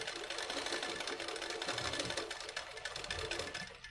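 A sewing machine stitching a collar-neck blouse runs in a steady, continuous mechanical whir with a rapid needle chatter, close and even throughout.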